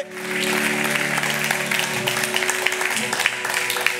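A church congregation claps and cheers in praise of the Lord, a dense, sustained wave of applause that holds steady throughout while a sustained musical tone fades under it.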